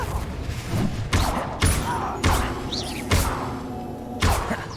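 Confringo blasting spells from the video game Hogwarts Legacy go off in quick succession during a duel, about six punchy booming thumps spaced roughly half a second apart over a busy combat backdrop.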